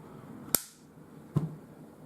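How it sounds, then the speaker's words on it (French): An HK SFP9 pistol gives two sharp, close metallic clicks as the slide locks back, about a second apart in a quiet room. "On entend un premier clac. On rebloque la culasse."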